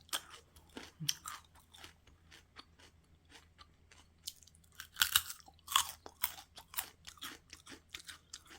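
Close, crisp crunching of someone chewing Jerusalem artichoke kkakdugi radish-style kimchi, with bursts of loud bites between quieter munching, no talking.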